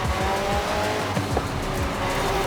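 A McLaren 12C in the video game Forza Horizon 5 accelerates hard, its engine note loud and steady as it climbs through the revs, with some tire squeal mixed in.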